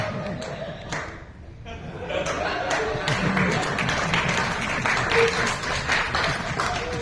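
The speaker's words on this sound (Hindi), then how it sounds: "भाभी जी ताली बजा रहे हैं, देख लो" An audience at a Big FM comedy festival show claps and laughs steadily, a dense wash of applause that swells after the first couple of seconds, with voices mixed in.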